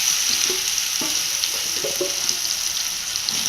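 Raw banana slices fry in hot oil with fennel, making a loud, dense hiss that holds steady from start to finish, with a few soft knocks from stirring underneath.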